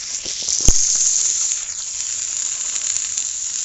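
Onions dropped into a hot pan give a bright, steady sizzle, with a sharp clatter near the start and then an even hiss that holds without talk.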